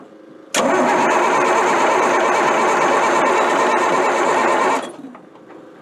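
A Deuce and a half military truck with a fuel problem cranks, a loud rough grinding roar starting abruptly and holding steady for about four seconds before cutting off, close by.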